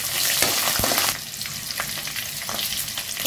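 Green chillies hit hot tempering oil already holding whole spices and cashews, a loud, close sizzle that flares at first, then settles into a steady crackle with a few stirring scrapes.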